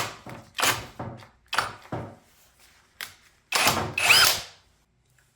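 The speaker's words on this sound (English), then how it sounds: "I started drilling and I realized this has way more power than I thought" Bursts from a DEKOPRO cordless combo-kit drill, several short loud whirring runs of about half a second each, separated by brief pauses, with a longer, stronger burst near the end.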